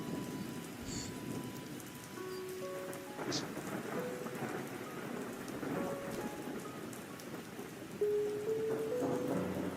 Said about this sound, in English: you hear rain start to fall from the sky